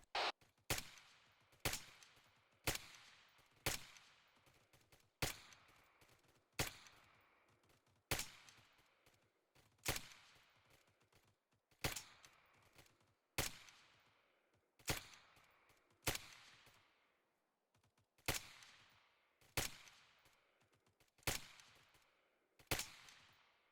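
A squad fires at enemies about 400 meters away in a tactical shooter video game: a long series of sharp, loud single gunshots at a steady pace of roughly one per second, each with a trailing echo and no voices.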